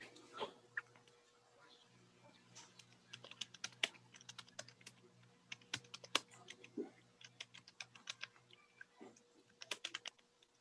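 Rapid typing on a computer keyboard, a steady stream of crisp clicks in quick bursts with short pauses, close by and fairly quiet over a low hum.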